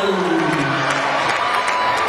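Basketball crowd at a high school game roaring after a dunk, a loud, sustained wash of cheering from a packed gym.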